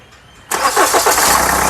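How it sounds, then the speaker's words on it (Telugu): A 2015 Hyundai Santa Fe 4WD CRDi diesel starts up close by: a brief crank, then the engine catches and settles into a loud, steady idle. "మళ్ళీ ఒకసారి ఇంజన్ స్టార్ట్ చేసి చూపిస్తాను స్టార్ట్ చేయి"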